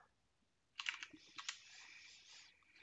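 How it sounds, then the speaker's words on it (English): Computer keyboard typing a short burst of numbers, a quick cluster of close, crisp key clicks after a moment of quiet, then a soft lingering tail. "I'm going to go ahead and just type that in there"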